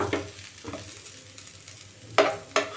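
Potato tandoori patties fry in shallow oil over low heat with a low sizzle, broken by a few sharp spatula scrapes against the pan, close and without talk.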